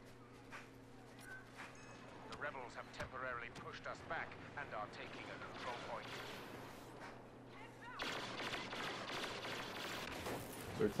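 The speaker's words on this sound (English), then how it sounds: "There's a rocket that comes." Gunfire and an incoming rocket rattle and boom through a Star Wars Battlefront online battle, with dense layered shots and blasts throughout and a louder burst near the end.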